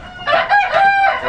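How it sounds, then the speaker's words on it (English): A rooster crows loud and close in a fishing village near Lima, Peru, one full drawn-out call with a rising then sustained cock-a-doodle-doo. "gorgeous, gorgeous rooster"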